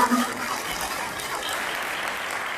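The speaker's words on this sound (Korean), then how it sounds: "여러분들의 따뜻한 박수로 다시 한번 환영해 주시기 바랍니다" An audience in a lecture hall gives warm, steady applause as a KAIST professor emeritus is welcomed to the stage, a brief, even patter of clapping heard at some distance.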